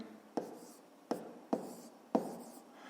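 Four short scratchy strokes of a pen or pencil on paper as numbers are written out for long division in a fifth-grade math problem, each stroke a soft, close, irregularly spaced scrape.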